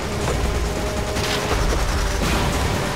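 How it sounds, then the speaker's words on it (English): Dense, continuous gunfire from several weapons in Resident Evil 5 as players shoot at a rock, a loud sustained barrage of overlapping rapid shots with no clear gaps. "We all have to shoot the rock, otherwise we're dead!"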